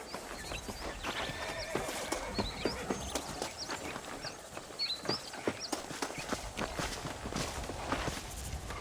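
A horse ridden at a steady pace in Red Dead Redemption, its hooves clopping rhythmically and continuously over open ground, close and moderately loud, with a faint bird-like ambience behind and no talk.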